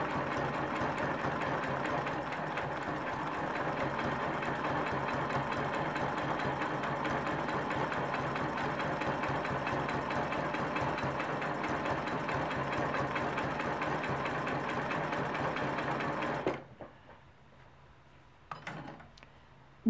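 A sewing machine stitches steadily around a quilt triangle for about sixteen seconds, a dense even whir of rapid needle strokes, then stops abruptly, leaving a near-silent room with a brief clunk.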